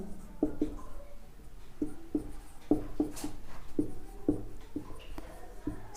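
An equation is written by hand, pen or chalk tapping and scratching in short, irregular strokes at a steady working pace. The sound is close and moderately quiet, with no talk over it.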